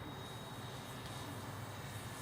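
An RCH Edge 540 model airplane drones in flight at a distance, its engine a faint, steady whine over a wash of wind noise.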